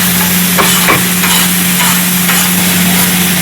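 Cabbage and capsicum are stirred and sautéed in oil for kothu parotta, giving a steady close sizzle with scraping stirs and a constant low hum underneath, no voices.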